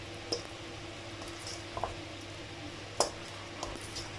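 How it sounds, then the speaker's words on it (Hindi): Ground spinach is stirred into spices in a pan, making faint, soft squishing sounds with a few wet clicks over a quiet background. "अब हम पालक को मसाले के साथ अच्छे से मिक्स कर लेंगे।"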